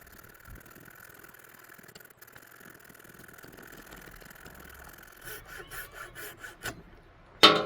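A factory saw blade rasps through red oak being shaped into revolver grips, a low steady grinding that turns into a run of distinct strokes near the end before a sharp final scrape, with no talking.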